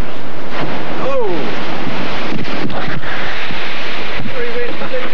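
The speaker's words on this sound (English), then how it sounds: "Quite a big sea we're going down at the moment." Big open-ocean sea and strong wind battering a racing sailing trimaran, loud continuous roar of wind noise and rushing water, with surges of waves crashing and spray, very close and overwhelming.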